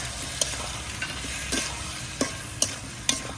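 Tomatoes stirred into onions and chilies frying in a pan: a continuous close sizzle broken by several sharp scraping knocks of the spoon at irregular intervals, with no talking.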